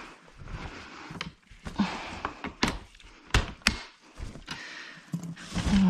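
Plastic and metal clunks and taps ring out as a rear wheel is pushed onto a Baby Jogger City Mini double stroller, a busy run of close knocks and thunks with no talking.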